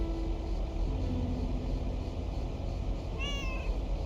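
Mortimer, a video game cat, lets out a single short meow near the end, following a low rumbling background and a faint tone.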